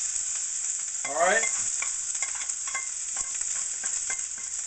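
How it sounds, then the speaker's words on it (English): Fried rice with shrimp and garden vegetables frying in a pan, a soft constant sizzle under clicks and light scrapes of stirring, with a brief spoken phrase near the start. "So you want to caramelize the rice in the bottom of the pan."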